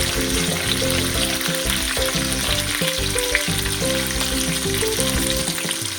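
Finely chopped chillies and curry leaves fry in hot oil in a pan, giving a loud, steady sizzle that runs continuously through the whole stretch, with no talking.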